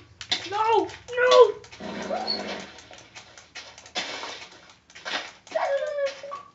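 A dog whimpers and whines in several short, high, wavering bursts, mixed in among people talking close by.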